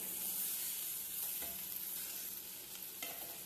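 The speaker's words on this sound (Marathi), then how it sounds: "पसरट कढई घेतल्यामुळे भेंडी अशी छान आपल्याला फ्राय करता येते" Stuffed okra frying in a wide pan, a soft, even sizzle with a few faint stirring scrapes, quiet and close.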